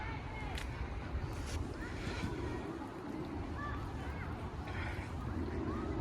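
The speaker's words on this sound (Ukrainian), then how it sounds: "тут навіть річка тече" A small river flows past a walking path in Northbrook with a steady, rushing wash, mixed with wind buffeting the microphone and a faint voice now and then.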